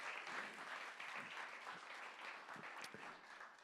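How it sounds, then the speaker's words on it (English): An audience at a live comedy gig at The Bedford claps for the sound engineer, dense continuous applause rolling on evenly from start to finish. "give him a round of applause"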